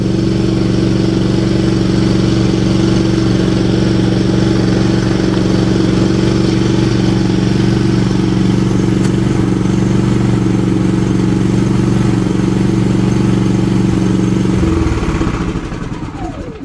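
A Philking 4200 inverter silent generator runs with a steady, loud engine drone and low hum, continuous for most of the clip before winding down and cutting out near the end.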